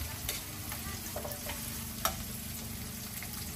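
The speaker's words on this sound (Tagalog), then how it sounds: "Ayan, sunod na natin ang sibuyas. Halo-haloin nyo lang mga guys." Chili and onion being sautéed in a pan, heard as a steady sizzle with light stirring scrapes and one sharp clink of a utensil, moderately close, with no voices.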